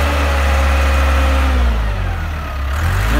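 Diesel engine of a Gradall 542 six-wheel all-terrain telescopic forklift running close by, a loud steady low rumble with a slight dip in revs and then a return to full power.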